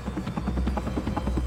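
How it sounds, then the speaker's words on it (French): A Tigre and a Caïman military helicopter take off and fly, their rotors producing a steady, dense whirring thrum with a rapid pulsing beat, loud and continuous with no voices. "Sur le tarmac, le Caïman, puis le Tigre, décollent."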